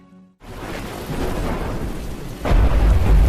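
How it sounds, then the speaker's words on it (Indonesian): Heavy rain pours in a loud, dense roar, and a deep rumble of thunder swells in partway through, booming low and close over the downpour. "Hujan lebat yang turun setiap hari membatasi aktivitas para penduduk."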